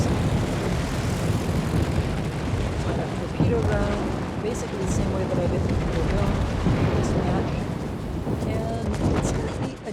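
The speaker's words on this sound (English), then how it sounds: "let me use torpedo bombers to see what I can do." Torpedo bombers in the naval video game World of Warships give off a steady engine drone over a dense, rumbling mix of game effects, loud and continuous for the whole stretch.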